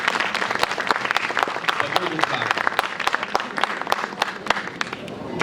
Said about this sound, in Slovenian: Jaz mislim, da si naša dva avtorja zaslužita en aplavz za to številko.